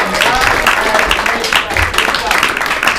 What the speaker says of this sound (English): First off, round of applause to Improv 3.